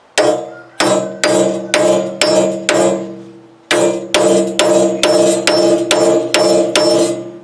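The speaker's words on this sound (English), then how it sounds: "I started tapping on it with a chisel to see if I can maybe break it free" A chisel is hammered against the folded steel body of an old lawn vacuum, giving loud ringing metallic strikes, five spaced hits, a short pause, then a quicker run of about eight more, each with a lingering ring.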